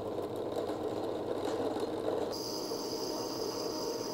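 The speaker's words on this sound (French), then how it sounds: "Ils sont un peu longs à percer eux parce qu'ils sont super épais. Putain, il perce plus rien mon forêt là." A drill bores slowly through very thick metal after cutting oil is applied, giving a steady grinding whir with a rattling edge and a brief shift in tone partway through, continuous and close, with no talking.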